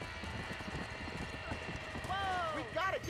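Horses whinny in alarm in a burning barn in the Red Dead Redemption video game, their rising neighs cutting through steady clip-clop and background noise near the end.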